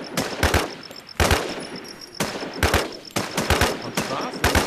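Bursts of automatic gunfire in the PC survival game Infestation Survivor Stories, several rapid volleys in quick succession, loud and close, separated by short pauses.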